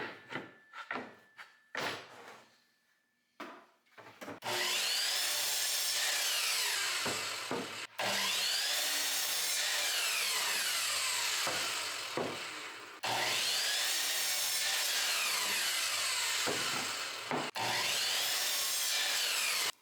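Wooden planks trimmed with a power saw for table legs, with light knocks and handling at first, then three long, loud passes of cutting whine separated by brief pauses.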